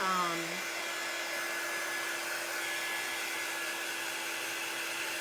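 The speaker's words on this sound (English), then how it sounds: "I'm going to dry it a little bit now" A hair dryer blows steadily to dry ink on a fabric pillow, a constant loud whooshing hum with a slight pitch shift as it starts, heard alone throughout.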